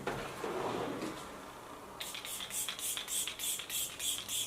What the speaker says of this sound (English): This is the Milk Makeup Hydro Grip setting spray.